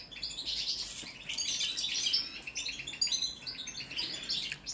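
A Balkan goldfinch (Carduelis carduelis balcanica) kept in an aviary sings continuously and close by, a bright run of rapid twittering chirps and trills with no pauses.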